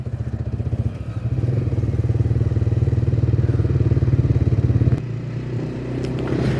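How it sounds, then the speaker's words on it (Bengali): A motorcycle rides steadily along a road ahead of a national highway, its engine a loud, continuous drone with a rhythmic pulse that shifts in tone near the end as the speed changes. "অনেকক্ষণ থেকে বাইক চালাচ্ছি"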